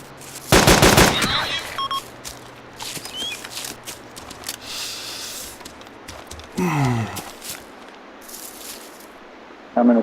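Gunfire in a video game shooter: a loud rapid machine-gun burst opens, followed by scattered shots, game effects and a second burst later, with breathing sounds between.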